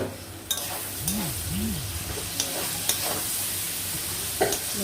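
Egg chow mein stirred in a hot pan gives a continuous sizzle with repeated sharp spatula scrapes and knocks against the metal, close and fairly loud.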